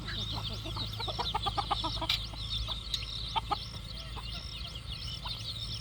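Free-range village chickens cluck repeatedly in a busy coop as they come to drink water, with sharp high chirps and calls over a steady low background hum.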